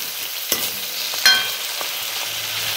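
Chicken and tomatoes cook in a pan with a soft steady sizzle, punctuated by a couple of sharp utensil clinks against the pan.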